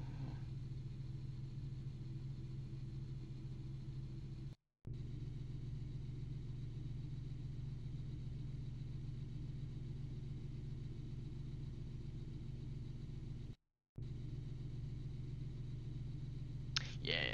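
Car engine idling in the BeamNG driving game, a faint, steady low hum that runs throughout with two brief dropouts and a short sharp sound at the end.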